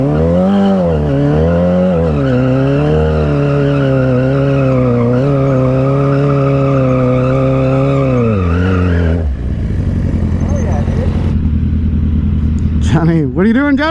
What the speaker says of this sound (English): Johnny, you know how to do donuts?